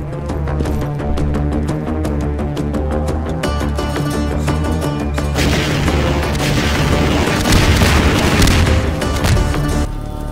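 Missile explosions in the game Half-Life 2: Swelter, a dense, loud barrage of booming blasts and bursts rolling continuously, with a thick low rumble under repeated sharp impacts.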